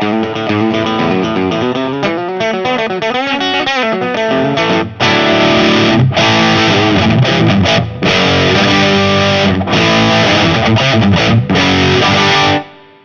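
Heavily distorted electric guitar through a TMiranda KING-DRIVE high gain distortion pedal, bridge humbucker coil-split, playing loud, sustained riffs and chords, with a few brief cutoffs between phrases, no voices.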